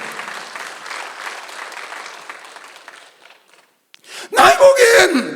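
A church congregation at a Sunday worship service applauds steadily for about three seconds, the clapping fading out before a voice starts speaking loudly.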